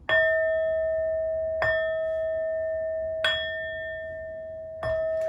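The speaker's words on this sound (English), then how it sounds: "These next 4 bell sounds are to align us and to bless this reading." Four bell strikes ring out evenly spaced, each a clear sustained tone that slowly fades before the next.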